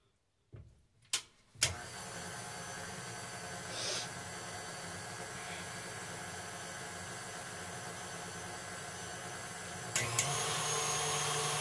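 An electric mixer beats instant chocolate pudding mix with milk. After a few clattering bumps it runs as a steady, loud motor whir, then ends with a louder surge.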